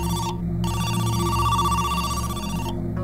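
A mobile phone rings with a steady, loud electronic tone pattern that pulses continuously for several seconds, close and alone.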